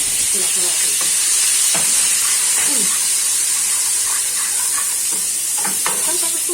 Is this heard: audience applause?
no